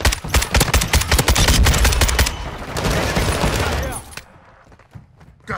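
Rapid automatic gunfire in the video game Modern Warfare II: dense, loud bursts of shots for about two and a half seconds, then a harsher noisy stretch before the firing cuts off into near quiet.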